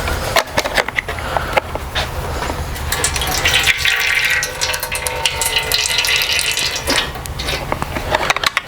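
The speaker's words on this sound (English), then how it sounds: "What I will start with is by emptying out the" Bar oil draining out of a STIHL chainsaw's oil tank, a gurgling, splashing pour of liquid with scattered clunks and knocks, fairly close and continuous throughout.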